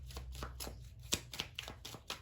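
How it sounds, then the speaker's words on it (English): A deck of tarot cards is shuffled by hand in a quiet room, giving a run of soft, quick riffling flicks and light slaps at close range. "There go the cards. I'll give it a few more shuffles here for Leo."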